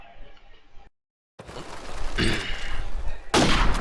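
Gunfire in the Counter-Strike video game, a wall bang shot through cover during a LAN playoff match, heard as a burst of loud, close shots with a sharp new blast at the end after a brief silence.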